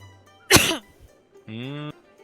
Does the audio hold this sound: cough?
yes